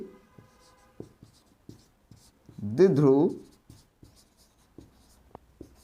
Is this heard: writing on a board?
yes